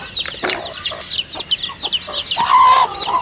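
Two turkey hens calling loudly in a backyard poultry setting with chicks, giving a rapid series of sharp, high yelps and clucks close by, with a strong call near the end.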